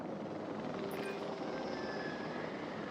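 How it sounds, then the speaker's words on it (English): Helicopters in a video game, four of them, give a steady, loud rotor drone and whine that runs unbroken and alone. "I don't know where these helicopters come from, but I'm not upset about the fact there's 4 of them."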